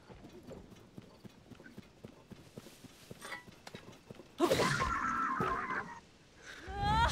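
Horse hooves clip-clop steadily in Zelda: Tears of the Kingdom, close and even-paced, before a loud burst of noise and a brief whinny-like sound near the end.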